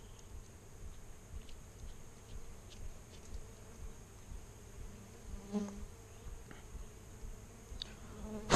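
Dwarf honey bees hum steadily at their nest, a continuous buzz with individual bees passing close now and then, outdoors and without talk.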